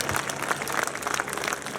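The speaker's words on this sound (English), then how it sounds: "Can you look at your neighbor and say, I'm giving you a round of applause today?" An audience gives a round of applause, a dense, steady patter of many hands clapping at moderate distance throughout the short burst.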